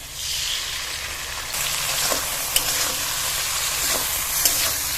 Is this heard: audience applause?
no